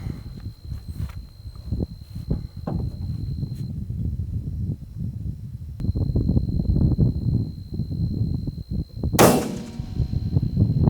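A single sharp crack from a 6.5 rifle at a long-range range practice session, shooting at 300 to 700 yards, standing out loud and brief against steady outdoor rumble and faint handling noises.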